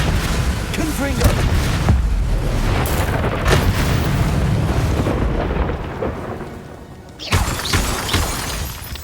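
Explosive Confringo spell bursts from Hogwarts Legacy combat, loud crackling booms and shattering impacts rolling on continuously, a sharp fresh blast near the end, with spoken spell incantations mixed in.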